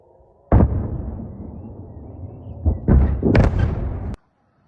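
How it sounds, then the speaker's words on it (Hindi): A missile or rocket strike explodes with a sudden loud blast, followed by a rumbling tail and several more heavy bursts in quick succession before cutting off abruptly. "It's a motherfucking rocket!"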